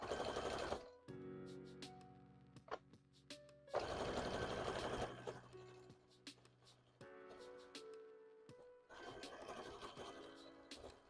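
A sewing machine runs in several bursts, loud stretches of rapid whirring stitching broken by quieter gaps with clicks and small handling sounds.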